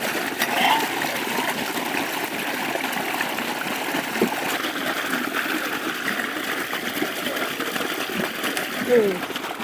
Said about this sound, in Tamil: நாட்டு காயை தண்ணியில் கொட்டி கழுவிக்கலாம்